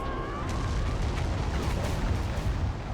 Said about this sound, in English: I didn't want to get killed by the explosion.